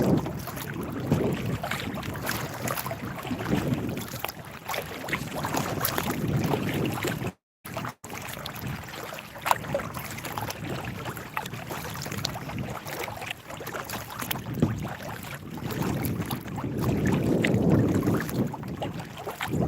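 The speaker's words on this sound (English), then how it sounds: "This wind is just brutal." Strong lake wind buffets the microphone while a fishing boat trolls, a rough continuous rush with gusty swells and a brief dropout in the middle, with no one speaking.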